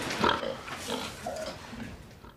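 Hogs on a North Carolina hog farm grunt and squeal, with several overlapping animal calls at moderate distance and no talk.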